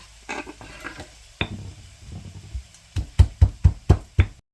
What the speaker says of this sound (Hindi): लहसुन को कुंडी में डाल के कूट लेंगे।